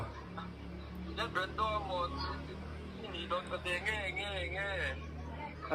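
Chickens cluck in short, pitched bursts that come and go across the stretch, mixed with a steady low hum and busy background chatter from people talking nearby.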